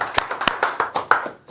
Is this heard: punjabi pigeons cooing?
no